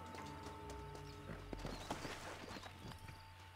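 A horse's hooves clip-clop at a walking pace in the Red Dead Redemption video game, quiet and close, in an irregular plodding rhythm over a low steady background hum.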